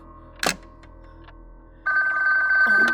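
A telephone bell rings in a radio drama, a short burst followed later by a sustained steady electric ring that grows louder and continues to the end.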